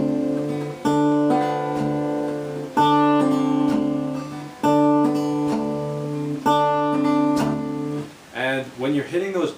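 Acoustic fingerstyle blues guitar playing a song, with repeated chords and deep bass notes struck in a steady rhythm, close and clear, ending with bent, sliding notes.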